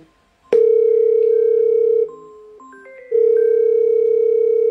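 A phone ringing tone sounds loud and close during a call, starting with a sharp click and then a sustained steady tone that dips briefly mid-way and returns at full strength, with no voices over it.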